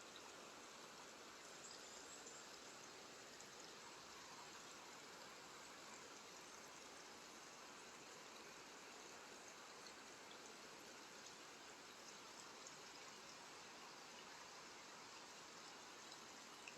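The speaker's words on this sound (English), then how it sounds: "that's what you hear right now, that background, is that water flowing" A jungle stream flows steadily, a continuous soft rushing and trickling of water with no breaks, heard faintly and evenly throughout.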